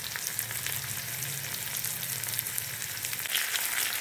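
Onion and garlic sauté in hot oil for cucumber kootu, a dense, bright, continuous frying hiss with scattered crackles, steady and moderately close throughout with no voices.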